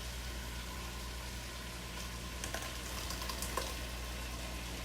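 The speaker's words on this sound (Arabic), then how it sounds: "أقلب الدجاج لغاية ما يتغير لونه من كل الجهات" Chicken pieces fry in a pan and get turned over, a low steady sizzle with a few soft scraping stirs partway through, quiet and continuous without any talking.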